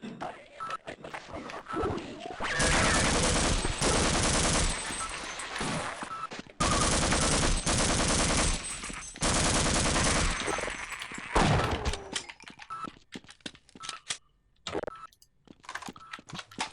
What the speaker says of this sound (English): And sentry guns, jeez.